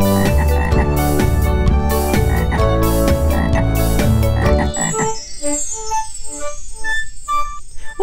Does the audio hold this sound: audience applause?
no